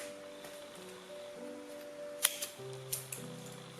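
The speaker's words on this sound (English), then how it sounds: "I've got the length of the strings, which is around 21 inches long, and I'm gonna cut it" Scissors snipping through crochet string: a couple of sharp, close metallic clicks and snips over quiet room tone, with faint handling rustle between cuts and no voices.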